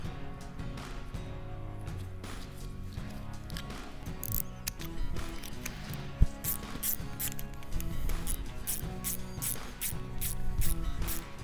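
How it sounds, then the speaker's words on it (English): A ratchet wrench snugs down the fuel pump nipples on a Titan Fuel Tanks Travel Trekker 50/40 gallon auxiliary fuel system, giving rapid close clicking in repeated short bursts with a metallic clank partway through and no speech. "You want to get them started and then snug them down with a wrench."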